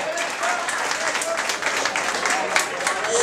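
Audience applause for the second-place finisher at a ranchera singing contest, steady dense clapping through the whole stretch with a voice speaking faintly over it.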